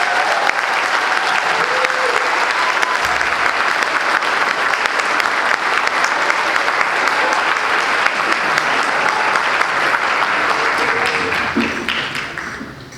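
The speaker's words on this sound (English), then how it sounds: "Please give him another round of applause." A band concert audience at a county high school honor band event gives a loud, full round of applause that holds steady for over ten seconds before tapering off at the end.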